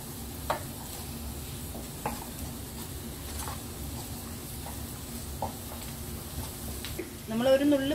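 A spoon stirs fish gravy masala in a pan over a high flame. Soft scraping strokes come at irregular intervals over a low sizzle, with a faint voice in the background.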